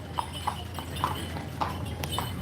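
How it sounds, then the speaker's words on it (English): Working horses' hooves clip-clop on a hot day, about five evenly spaced hoof strikes at a slow walking pace, moderately near over a low background hum. "Bless the horses working in heat like this"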